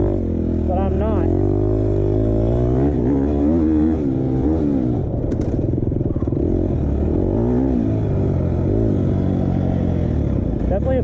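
A 2020 KTM 250 XCF dirt bike engine runs steadily close by while being ridden, its pitch rising and falling with throttle as someone talks continuously over it.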